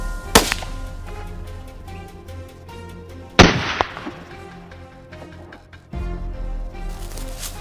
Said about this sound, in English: I raised my rifle and squeezed the trigger.